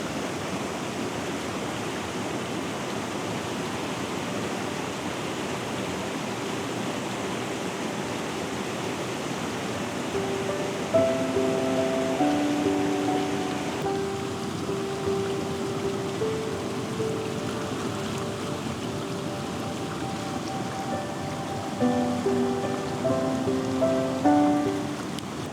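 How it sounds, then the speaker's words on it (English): Rushing river rapids in Glencoe during a winter storm, a steady broadband roar of churning water throughout, with wind and faint tonal sounds rising over it in the second half. "Down at the rapids."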